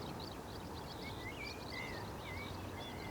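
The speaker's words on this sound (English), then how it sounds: "You might be able to hear a skylark in the distance." A skylark sings from far off over farmland, faint, continuous high warbling over a steady wind-like hiss, with thin whistled notes rising and falling.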